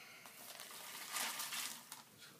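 Water trickles slowly into a wet rock block mixture, a soft, faint, steady splashing hiss with a brief stronger pour near the middle and no talking.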